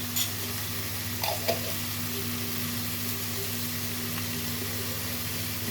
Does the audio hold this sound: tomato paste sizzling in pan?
yes